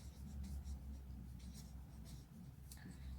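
Pen writing on paper during a maths lesson, a faint scratchy rustle of short strokes with bursts of hiss, quiet and close, with no speech over it.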